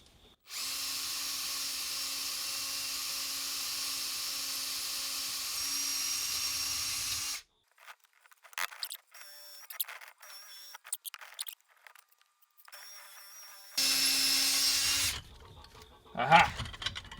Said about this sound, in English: So, we're just going to drill it out,